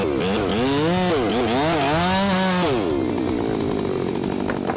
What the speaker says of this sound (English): Thanks to the sharpness of the chainsaw, the woodwork worker bravely cut down an ancient oak tree nearly 60 meters high.